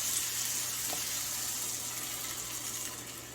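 Recombined egg whites and yolks poured slowly into an omelet pan, giving a faint, steady hiss and sizzle that fades gently over a few seconds.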